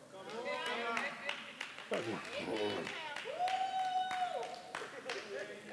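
A church congregation claps in short, scattered bursts beneath a preacher's energetic speaking voice, with a sustained vocal note partway through.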